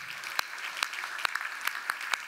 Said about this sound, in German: auch der kriegt erstmal einen Applaus